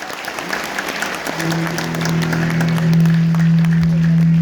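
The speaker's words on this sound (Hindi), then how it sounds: "बजाइए एक बार जोरदार तालियां।" Applause from a crowd at an evening business meeting, a fairly loud, dense clapping wash with a sustained musical tone rising underneath partway through.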